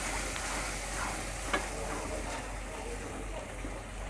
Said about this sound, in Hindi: तो अब हम चम्मच चलाते हुए इसमें थोड़ा सा अंडे और दूध का मिक्सचर डालेंगे